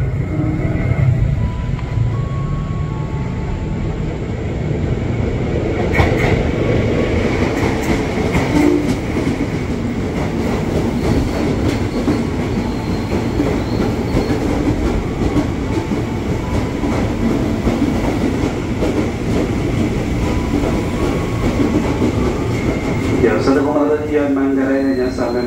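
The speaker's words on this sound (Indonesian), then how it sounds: "Jalur 2 dari utara segera masuk komuter tujuan Bogor." A 12-car Bogor-bound KRL commuter train rumbles steadily into Universitas Indonesia station with rhythmic clattering from the rails. A loud rushing roar fills the whole stretch, and voices are faintly audible underneath.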